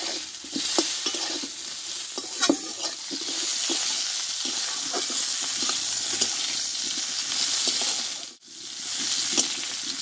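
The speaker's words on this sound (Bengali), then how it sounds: "একটু অল্প আছে, কপিগুলো আমি ধীরে ধীরে কষে নেব।" Cauliflower florets sautéed slowly in a little hot oil in a pan give a steady close sizzle with scattered scraping and stirring clicks throughout, briefly dipping to near silence before the frying resumes.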